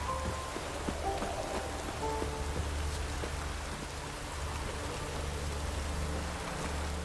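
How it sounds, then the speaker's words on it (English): Rain falls in The Witcher 3, a steady soft patter and hiss on surfaces with faint scattered drops and low ambient rumble, fairly quiet throughout, with no talk. "No use doing any work in this rain."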